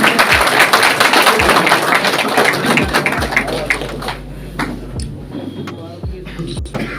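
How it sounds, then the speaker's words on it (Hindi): A crowd at a sports gathering in Haryana claps to welcome guests, loud dense applause that thins out over several seconds, leaving scattered claps and low thumps. "सभी तालियों से स्वागत करें।"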